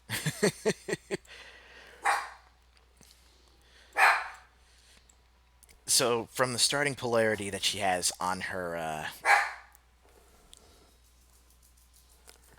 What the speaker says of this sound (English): Quit your barking.